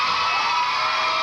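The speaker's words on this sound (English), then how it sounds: "Big round of applause, everybody." A game-show studio audience applauds and cheers, a steady, dense wash of clapping that holds at an even level for the whole brief moment.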